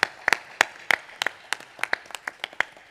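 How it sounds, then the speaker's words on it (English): A Coast Guard Auxiliary national event audience gives sparse applause for the staff, heard as a dozen or so distinct, fairly loud, rhythmic claps from a few nearby hands, with no talk. "if I could just get a round of applause for them"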